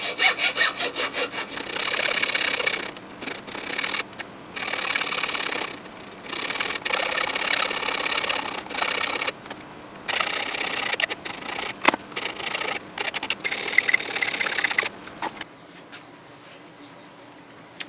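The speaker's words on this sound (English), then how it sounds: "I'm just going to hit this with a file those edges off and make that flush." A hand file scrapes the edges of a patio light part flush, a loud rasping stroke repeated in bursts with short pauses between them, close up and dying away near the end.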